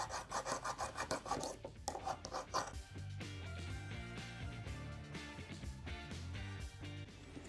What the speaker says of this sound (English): I'm gonna use my finest sapphire stone for this, and then just see if I can get a bevel in there to properly sharpen this